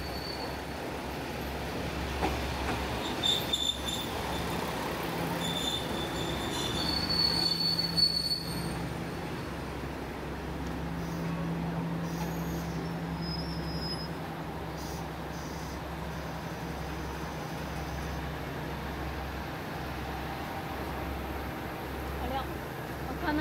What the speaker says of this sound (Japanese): 列車がやってきました